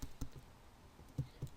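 Typing on a computer keyboard, heard as a few quiet, scattered key clicks at irregular intervals against a faint background hiss; no talking.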